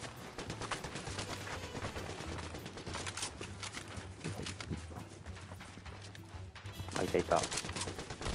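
Gunfire in the Fortnite video game, with bursts of shots over busy game noise and other sounds, growing louder near the end as a player speaks briefly.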